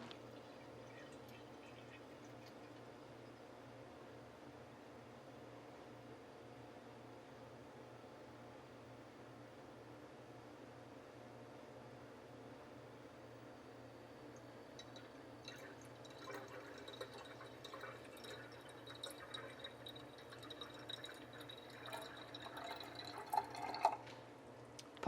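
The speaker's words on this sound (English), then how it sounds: "I am going to start to add water inside" Water poured into a small cooking pot while making Brazilian cuscuz: a quiet, steady background at first, then a louder splashing, trickling fill sets in for the last ten seconds, alone without talk.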